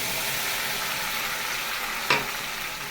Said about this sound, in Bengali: এবার আমি দিয়ে দিচ্ছি মশলা।